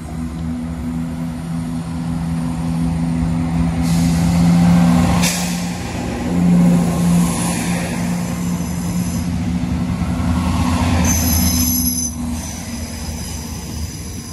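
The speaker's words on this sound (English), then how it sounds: "This is a pair of Class 170s" Two coupled Class 170 diesel multiple units pass through Alfreton station, a loud rolling rumble with wheel squeal and brake hiss that rises and falls over several seconds, with no talk.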